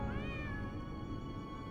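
A cat in the video game Lies of P gives one drawn-out, wavering meow, clear and fairly close, heard alone over a soft, steady game ambience.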